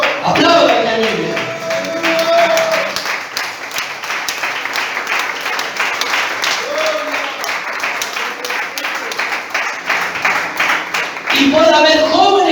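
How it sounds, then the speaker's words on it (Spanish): A church congregation clapping during a Spanish sermon, sustained rhythmic applause for several seconds with a preacher's voice speaking at the start and end. "Aplaudan la Biblia."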